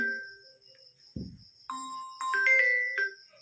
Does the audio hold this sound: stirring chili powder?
no